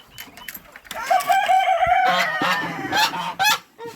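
Ducklings squeal for food, potatoes tossed to them in a farmyard with other poultry. The high, harmonic cries are loud and near, overlapping in a steady chorus with short breaks.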